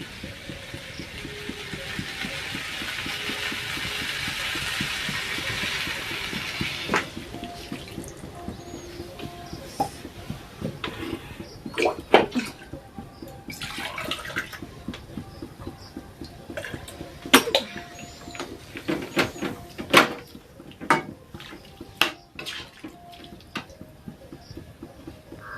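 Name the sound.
water being poured into a cooking pot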